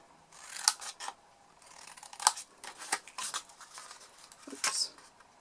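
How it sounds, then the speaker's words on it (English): Scissors snip through paper or card, cutting tabs and small corner wedges for a chocolate lolly gift box; several sharp, close, irregular snips separated by short pauses, with faint handling rustle between them. "cut our tabs and a little wedge out of the 4 corners"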